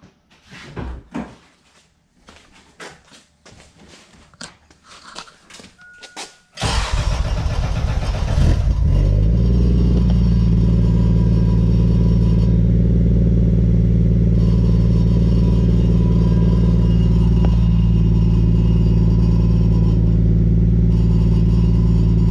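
A Toyota Mk3 Supra, just fitted with a fuel pump, cranks and fires after some clunks and rattles, then settles into a loud, steady idle with slight revving, close to the car and with no talking.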